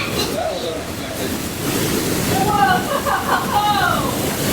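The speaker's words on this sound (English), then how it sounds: "Hear the power of that water rushing." Powerful water rushes continuously through the Watkins Glen gorge at a state park, a loud steady roar with wind buffeting the microphone, while people talk excitedly over it.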